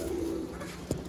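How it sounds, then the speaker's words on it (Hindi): A single Sialkoti pigeon coos softly nearby, a short low throaty call followed by a brief rustle. "एक कबूतर है"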